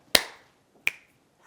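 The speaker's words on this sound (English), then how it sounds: "This time, instead of clap, 2, 3, we're going to introduce a snap." Two crisp finger snaps, sharp and close, spaced about three-quarters of a second apart in a group rhythm activity, with silence between and no talking.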